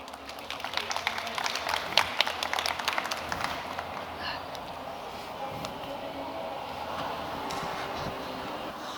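Scattered clapping from an audience at a pitch competition, with bursts of claps in the first seconds that settle into a steady murmur of crowd noise.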